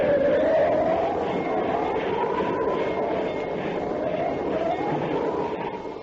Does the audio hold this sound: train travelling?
yes